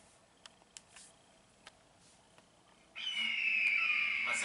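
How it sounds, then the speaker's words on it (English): An eagle screech from a cartoon animation cuts in suddenly and loudly after a few faint clicks, holding as a sustained bright, harsh cry to the end. "What's that sound? Could it be? Sponsor Eagle!"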